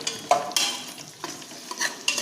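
Onions being added to a pan and stirred while cooking vegetable biryani, giving a few short scraping stirs over a soft, steady sizzle with no talking.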